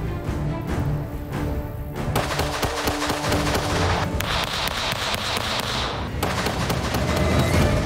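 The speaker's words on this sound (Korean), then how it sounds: "타겟 A를 향해 양손 사격으로 7발 쏘고 이어 타겟 B를 한손 사격으로 7발을 쏘아 그 명중률을 확인할 것이다" An FN M1900 pistol fires repeatedly, held two-handed and aimed at a target. Sharp, loud reports follow in close succession over a noisy outdoor range background.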